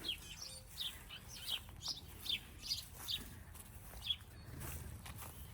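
Small birds chirp in a Manitoba garden in spring, with quick, bright calls repeating every half second or so at moderate distance over a soft outdoor background.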